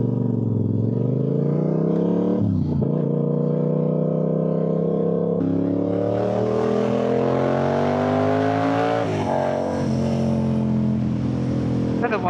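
Yamaha R7 motorcycle engine while riding on a road, a loud steady drone that rises in pitch through gear changes, with brief dips between shifts, close and continuous with someone talking over it.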